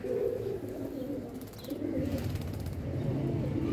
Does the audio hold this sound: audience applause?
no